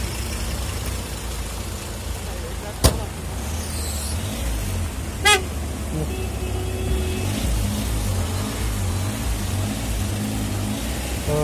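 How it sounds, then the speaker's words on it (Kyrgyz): Cars pass on a road near a livestock market in Jalal-Abad, with a steady low traffic rumble and idling engines, plus a sharp click and a brief rising honk-like tone partway through. "Жеңил унаалар өтүп атат."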